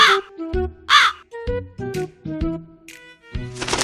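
Cartoon crow cawing in a Hindi animated children's story, a run of loud, close, harsh caws in quick irregular bursts over a light background music bed.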